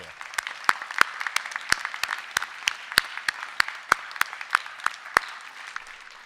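Applause from a graduation ceremony audience, a thin spread of steady clapping with sharp individual claps standing out in an even rhythm, fairly near and continuing for several seconds.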